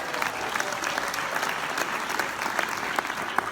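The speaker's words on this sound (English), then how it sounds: "can we give Teresa a round of applause?" An audience claps steadily for a young woman seated in the front row at an entrepreneurs' event in London, a dense, even applause sustained throughout with no one speaking.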